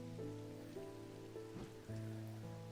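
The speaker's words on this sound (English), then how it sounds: "now that it's raining." Steady rain falling on surfaces in the video game Strange Antiquities, a continuous soft hiss under sustained game music tones, with no talking.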